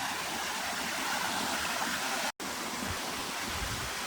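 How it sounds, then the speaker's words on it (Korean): Mountain valley stream water rushes down a rocky gorge in a steady, broad hiss, with a split-second gap partway through, and no voices over the flow. "계곡에는 시원하게 물이 내려옵니다"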